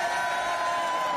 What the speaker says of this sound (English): Cheering all night long.